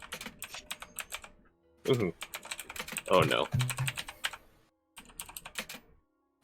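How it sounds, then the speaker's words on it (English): Quick bursts of typing on a computer keyboard, close and clicky, broken by short pauses, with a voice speaking briefly in the middle. "I heard typing."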